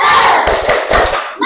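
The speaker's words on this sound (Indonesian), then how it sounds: "Ya, semuanya tepuk semangat." A class of students claps a rhythmic encouragement chant together, loud crowd voices and sharp hand claps in quick bursts, close by in a classroom.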